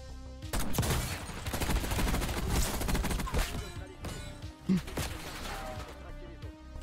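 Rapid gunfire bursts from a Warzone match fill the mix, dense and loud with sharp impacts throughout, while a player speaks over the shooting.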